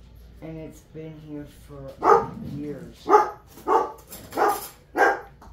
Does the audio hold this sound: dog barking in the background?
yes